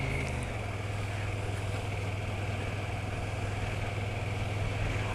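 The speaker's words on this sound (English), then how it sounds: "with lots of low down torque the bike pulls away very, very smoothly" A 2020 KTM 1290 Super Duke GT motorcycle pulls away smoothly, its engine a steady, even low drone with constant wind and road rush from close by, no voices.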